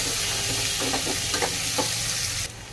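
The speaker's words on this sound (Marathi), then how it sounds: "कांदा आपल्याला छान असा परतून घ्यायचा आहे" Finely chopped medium onion sautés in a pan, a loud continuous sizzle with a few soft scraping stirs, close up, no talking.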